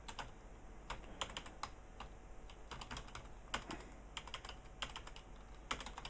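Quiet, rapid typing on a computer keyboard: irregular bursts of light key clicks over a low steady background hum, no voices.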